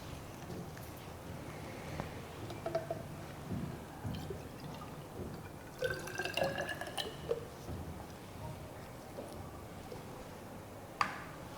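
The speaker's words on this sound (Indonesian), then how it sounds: "pertama kita tuangkan larutan hidrogen peroksida sebanyak kurang lebih 50 ml ke dalam gelas ukur." Hydrogen peroxide solution poured into a glass measuring cylinder for an elephant toothpaste experiment, with faint trickling and drips, a brief brighter splash of liquid midway and a sharp glass clink near the end.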